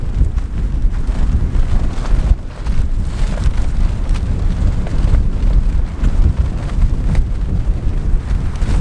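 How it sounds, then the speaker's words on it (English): Strong wind roars steadily across a microphone at a mountain backpacking campsite in the Enchantments, a loud continuous buffeting rumble with gusts and no talking. "the wind has been crazy"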